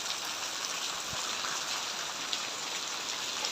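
Heavy rain falls steadily in a dense, continuous hiss, loud and unbroken, with no voices over it.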